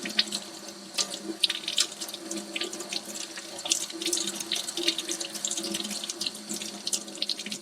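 Steady running tap water splashing over hands at a sink while the fingernails are cleaned with a nail pick, close and continuous with small irregular splashes, no talk.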